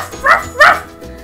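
A puppy, a small dog, gives two quick yips close by, followed by a fainter whimpering sound, all loud and with no talk over them.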